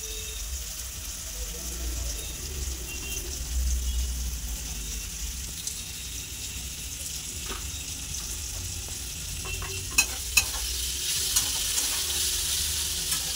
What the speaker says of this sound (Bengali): তেলের মধ্যে ডিমটা ভাজা হবে